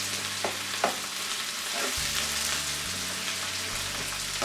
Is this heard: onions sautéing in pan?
yes